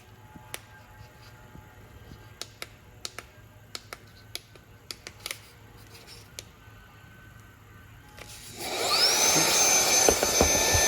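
A Meco Eleverde portable handheld brushless car vacuum switches on after a stretch of quiet clicks and handling noises, then runs with a loud, close, steady high whine.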